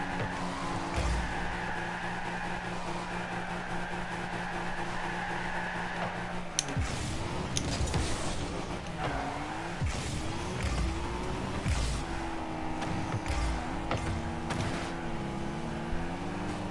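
Rocket League cars skid and drift with sustained engine whine and squealing tires, the pitch sweeping up and down continuously and loud throughout, game effects layered on top.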